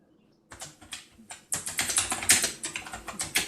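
Rapid computer keyboard typing close up, starting after a brief silence with a few scattered keystrokes, then turning into a dense, steady run of clicks, with no talking.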